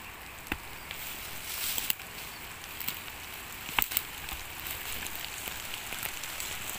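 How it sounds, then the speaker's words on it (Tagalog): Steady rain pattering outdoors near a snake mound in the open, a dense continuous hiss with a few sharp drop taps and knocks, no talking. "Yan po, umuulan na po."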